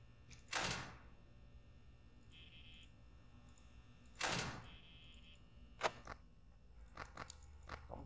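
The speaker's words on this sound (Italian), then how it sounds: "ogni tanto sentite bussare" Knocking on a door in Five Nights at Freddy's, heard as two faint clusters of soft thuds a few seconds apart, followed by a few short taps toward the end, over a low steady hum.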